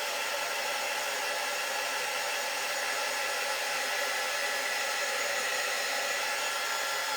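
A hair dryer blowing steadily to dry paint on a homemade patriotic banner, a loud continuous broadband whoosh with no breaks and no talking.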